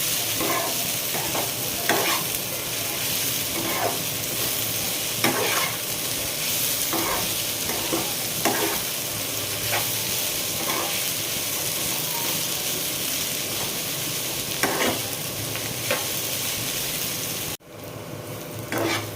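Ivy gourd pieces are stirred and fried in a pan, giving a loud, steady sizzle with repeated scraping strokes of a spatula. The sound briefly dips near the end.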